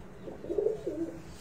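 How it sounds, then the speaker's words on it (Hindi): Pigeons on a Faisalabad rooftop give a soft, nearby coo in two rolling low phrases, heard alone without talk. "क्या बात, एक्सीलेंट कबूतर माशाल्लाह"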